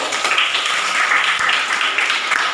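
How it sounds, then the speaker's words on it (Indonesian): A classroom full of students claps together in a steady, dense burst of applause that continues throughout, with no clear talk over it. "Give applause, tepuk tangan dulu."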